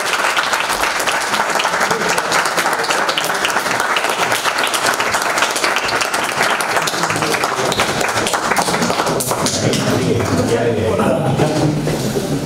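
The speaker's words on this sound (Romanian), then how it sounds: "Haideți să-l aplaudăm." An audience at a book launch applauds with sustained, dense clapping that stays loud and even, with a slight thinning toward the end.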